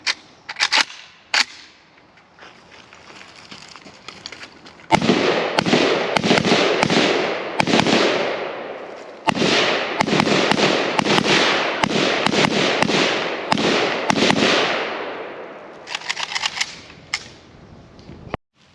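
Pioneer Arms AKM sport rifle, fired with its factory magazine, lets off rapid close bursts of sharp shots that repeat steadily for several seconds at a time, with short pauses between strings and a few scattered single shots at the start.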